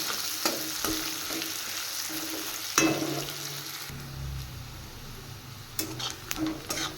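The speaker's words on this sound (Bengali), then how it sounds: "এবার পেঁয়াজটা একটু ভেজে নেব হালকা করে ভেজে নিলেও হবে" Chopped onions sizzle steadily in a hot pan on a home stove while being stirred, with scraping strokes and a few sharp clinks of the spatula against the pan, close up and without talk.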